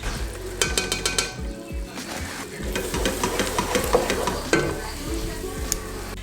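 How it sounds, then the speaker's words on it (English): Onions with flour for French onion soup sizzle in a pot as a spoon stirs them, giving busy scraping and frying crackle with a few sharp metallic clinks against the pot. "We're gonna add flour and cook, stirring until incorporated 1 to 2 minutes."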